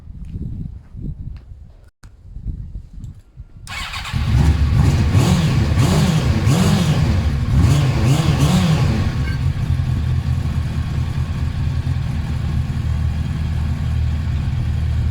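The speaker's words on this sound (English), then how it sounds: "So we should end up here with a starting bike that idles for a while." A motorcycle engine, a Suzuki GSX-R SRAD or BMW F650, starts after a few quiet seconds, revs briefly, then settles into a steady, loud, close idle that continues to the end.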